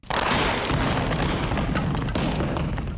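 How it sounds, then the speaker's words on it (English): A loud booming cartoon explosion sound effect erupts at once and rolls on as a dense, crackling roar that slowly fades, with no speech. "or the explosions, Treg Brown was the master of the sound effects."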